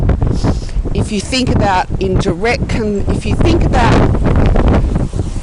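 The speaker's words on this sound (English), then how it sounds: "apologies for this wind, it's quite vicious" Strong, gusty wind buffets the microphone outdoors while someone talks over the steady roar.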